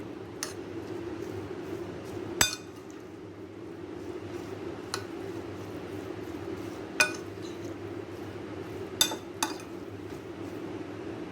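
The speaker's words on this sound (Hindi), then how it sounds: "ये देखिए मैंने मसाला अच्छी तरह मिक्स कर लिया है।" A spoon stirs masala for noodle cutlets in a bowl, with a handful of faint, scattered clinks over a steady low hum and no talk.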